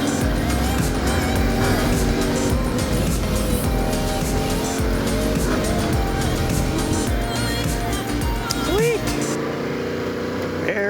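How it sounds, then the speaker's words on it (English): Road traffic near Harrison Lake, with passing cars and tire noise heard continuously and fairly loud from a moving vehicle, a voice speaking over it. "There's traffic, quite a bit of traffic."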